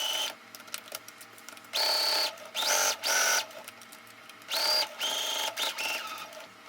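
A sewing machine stitches a clutch bag, running in several short bursts of whirring with brief pauses between them as the needle is left down and the fabric pivoted at corners; close and moderately loud, no voices.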